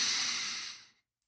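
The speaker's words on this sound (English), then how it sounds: "And you take your breaths in" Deep inhalation through the nose during a guided breathing exercise, a single long, soft airy breath that fades out after about a second, heard alone in a quiet room.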